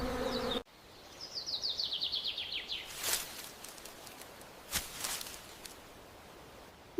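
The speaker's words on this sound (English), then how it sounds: "Why is the bee visiting every flower?" A bee buzzes near peach flowers, a close wavering hum that rises and falls, mixed with brief high bird chirps and a few sharp knocks.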